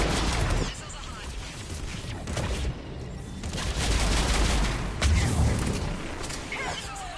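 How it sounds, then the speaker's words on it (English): Missiles launching in Mass Effect Legendary Edition during a space battle: a loud rumbling roar of launches and booming blasts continues throughout, with heavy low thuds and several sharp bursts layered over the din. "Missiles away."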